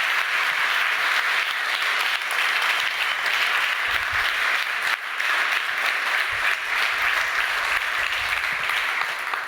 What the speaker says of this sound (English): please let's give a big round of applause for Vitaly, Karis, Jarin, Amanda, Iris, Ari, Jan